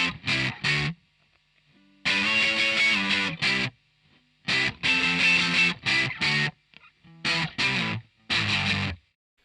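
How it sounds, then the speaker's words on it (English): Distorted electric guitar power chords form a short transition into the second bridge of a song: loud, choppy chord bursts stop and start in a syncopated rhythm with short silent gaps. "just a couple of different power chords leading us into the 2nd bridge"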